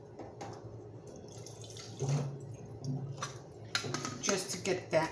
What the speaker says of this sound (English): I always add a little bit of water in here